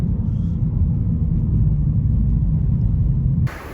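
BMW M2 on new wheels and tires accelerating hard, a loud, steady, deep engine rumble held close for several seconds before cutting off abruptly near the end.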